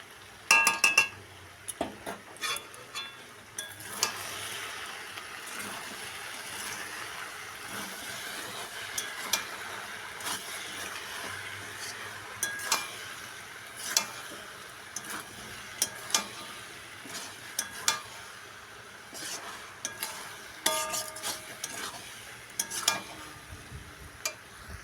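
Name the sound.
stirring kochur loti (taro stolons) in a pan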